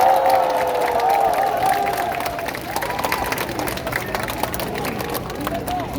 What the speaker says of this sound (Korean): 여러분 큰 박수로 맞이해 주시면 감사하겠습니다.